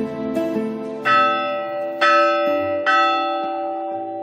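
The church bell of San Juan church on top of a rock island in Spain is rung by visitors, giving three loud, resonant clangs about a second apart, each left ringing and fading.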